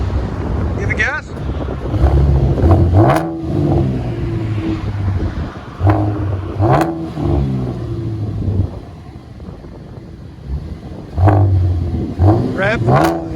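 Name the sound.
Chevy Camaro 3.6L V6 revving with aftermarket exhaust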